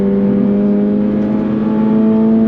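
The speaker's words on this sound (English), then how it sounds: "She pulls all the way to redline" Engine of a 2024 Subaru BRZ tS sports car pulling hard toward redline, a steady loud tone rising slowly and continuously with strong harmonics throughout, no voices over it.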